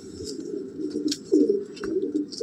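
A breeding pair of pigeons cooing softly in a loft, low throaty coos repeating in an uneven rhythm close by, with faint chirps and rustles around them and no talking.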